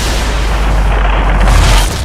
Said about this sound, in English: I'm dropping frames due to the density of explosions here